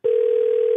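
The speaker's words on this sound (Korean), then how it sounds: "전화 간다 전화 간다." A telephone line emits a single loud, steady dial-type tone as an outgoing call is placed, starting abruptly and holding continuously to the end.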